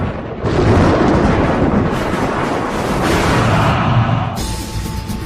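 Rumbling thunder from an electrical storm at night, a loud continuous broadband roar with swelling peaks, close and steady throughout with no voices.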